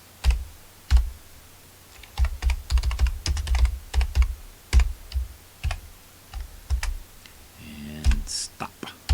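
Keys clatter in uneven bursts of typing on a Commodore 16 keyboard, with close, crisp clicks and short pauses between runs, and a brief chirping tone near the end.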